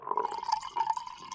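Layered liquid pours into a glass with a bright, bubbling trickle that swells and eases over a second and a half, close and fairly clear with no voices.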